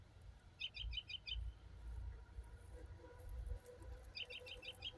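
A garden bird calls twice in quick bursts of short, high chirps, once near the start and again near the end, fairly faint over a low outdoor rumble.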